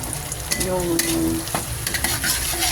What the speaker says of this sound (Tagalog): I-mix nyo siya kasi garlic and pepper